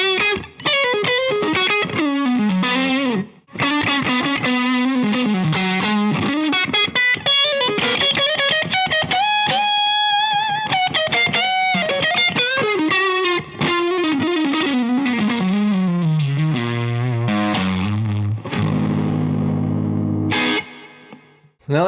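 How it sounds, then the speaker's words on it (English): Distorted electric guitar plays through a Marshall JMP-style preamp with reverb and tape delay, loud sustained chords and riffs with smeared echoes trailing each phrase, running alone without talk for about twenty seconds. "this is where I use the Galaxy by UFX for some reverb and tape delay"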